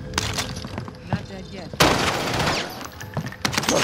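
A video game firefight with bursts of rapid gunshots and a sharp loud blast midway, followed by crackling, scattered fire under excited talking.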